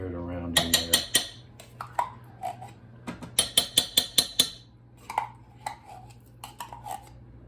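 A spoon scrapes and clanks against a cooking pot as tomato paste is stirred into Texas chili, in close, irregular bursts of metallic knocks.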